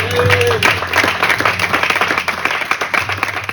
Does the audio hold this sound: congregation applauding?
yes